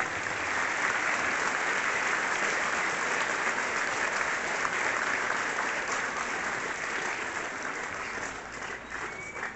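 Sustained audience applause at a school interbachillerato event in Ciénega de Zimatlán, a dense, steady wash of many hands clapping for the full stretch with no talk, easing slightly near the end.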